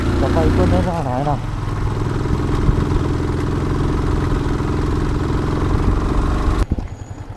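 Motorcycle engine running steadily on a steep ghat road during a touring ride from Trimbakeshwar, a loud continuous mid-pitched drone with some rattle, close to the microphone, ending abruptly.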